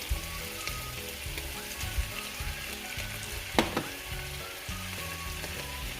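Celery tossed into a pan of frying pancit canton noodles sizzles steadily, with rhythmic scraping and stirring knocks and one sharp clank partway through, fairly quiet and close.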